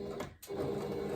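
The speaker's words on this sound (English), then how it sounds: "we're just going to sew this real fast" A sewing machine stitches fabric for a quilted basket, a close, steady motor whir that cuts out for a split second and then resumes.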